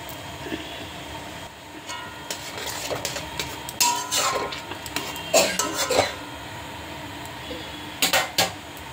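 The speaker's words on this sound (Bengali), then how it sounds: "এখন শাকগুলোকে ছেড়ে দেবো" Leafy greens being stirred in a pot of turmeric-seasoned, partly reduced water, with irregular scraping and clinking of a utensil against the metal, close, building to sharper clusters of knocks near the end.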